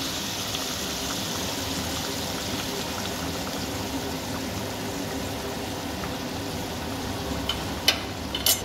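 Hot water pours steadily into a thin katla fish curry with potato, brinjal and drumsticks simmering on a high gas flame, a continuous rushing splash lasting several seconds, with a few brief clinks near the end.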